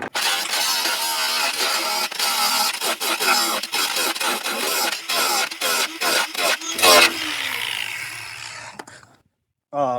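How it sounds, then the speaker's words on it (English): A grinder cuts rivet heads off a Ski-Doo Rev XP snowmobile radiator in bursts of harsh, buzzing metal grinding with short stops between, loud and close, ending in a drop to near silence. "So I'm going to try to do my best to just grind them off, then you just pop them off."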